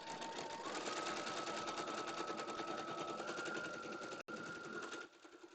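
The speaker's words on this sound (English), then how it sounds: "And now I am just going to start sewing." A Brother sewing machine stitches a quilt block at stitch length 2.0 and width 5.0, a steady, close, fast mechanical whir with a brief break near the end before it slows and fades.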